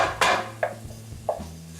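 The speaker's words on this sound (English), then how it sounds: "you kind of want to constantly stir it because I don't want to burn the vegetables" A spoon scrapes and knocks against a pot while vegetables for a lobster bisque are stirred. There are a few sharp, close clatters spaced irregularly over a quiet background.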